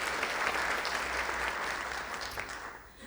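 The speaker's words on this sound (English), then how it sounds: "if we could all give them a round of applause in their absence" A keynote audience applauds the absent organizers with moderately loud, even clapping from the crowd that fades slightly toward the end.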